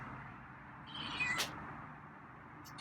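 Feral cat gives a single short, faint meow amid quiet background noise, alone with no talk.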